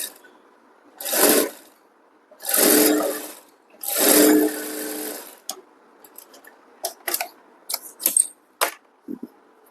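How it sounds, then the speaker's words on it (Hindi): A sewing machine stitches a fold on a blouse button placket in three loud, close bursts of rapid whirring, followed by scattered clicks and fabric handling. "चाप की सिलाई लगा देनी है।"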